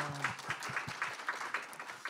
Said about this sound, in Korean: 박수 한번 해주시면 고맙겠습니다